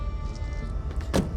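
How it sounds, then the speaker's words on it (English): A car door lock in a video game gives a single short click near the end, over a faint, low in-car hum. "A moment later, you hear the click of a lock."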